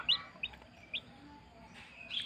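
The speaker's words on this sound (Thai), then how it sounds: "วันนี้มีเคส ลูกไก่ขาทาง นี่ครับ" A newly hatched chick with splayed legs cries in thin, high peeps, four or five short calls spaced apart and fairly close.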